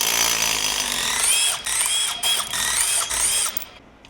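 A power tool, likely an impact wrench, whines steadily with brief pauses as it frees the driven sprocket from the rear wheel of a 2003 Dyna motorcycle during a chain drive conversion. The sound is close, loud and unaccompanied by talk.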